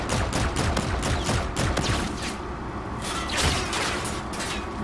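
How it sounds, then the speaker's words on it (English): Dense bursts of automatic gunfire in a first-person shooter video game, from a Volk rifle and incoming fire, loud and close with rapid repeated shots, a short lull, then more firing. "And we get shot from the other direction"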